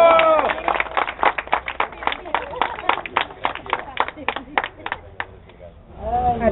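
Applause at a municipal DIF community event in Temixco, Morelos: scattered, uneven claps from a small crowd that thin out and stop, followed by a voice at the end.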